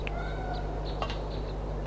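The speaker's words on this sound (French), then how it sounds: "Mon chaton est toujours au fond du puits. Ne me dis pas que tu n'entends pas ses miaulements." A kitten meows from the bottom of a well in the Harry Potter PS1 game, a few thin, faint meows over a steady low background hum with no talk.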